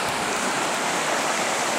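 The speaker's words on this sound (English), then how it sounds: "So this little stream to the left of me just here," A small stream in Pole Canyon, Great Basin National Park, flows with a steady, close rushing and burbling of water, uninterrupted and without voices.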